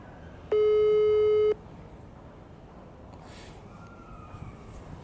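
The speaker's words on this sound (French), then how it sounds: "Donc on va commencer directement à appeler." A phone line gives a single steady electronic tone of about one second while a call is placed, loud and close, followed by faint background noise and soft distant sounds.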